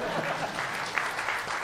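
Seminar audience clapping in a continuous, fairly close patter of many hands, with voices mixed into the crowd noise.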